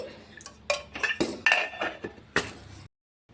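A bowl set on a kitchen stove while coconut chutney is being made, with a handful of close metallic clanks and clinks in an uneven sequence that end in sudden silence.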